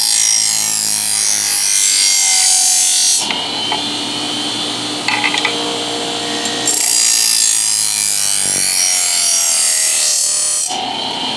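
Knife blade drawn back and forth on a DIY budget knife sharpener, loud bright grinding strokes in long sustained passes with brief pauses between them.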